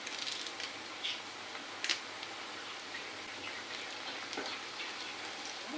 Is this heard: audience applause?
no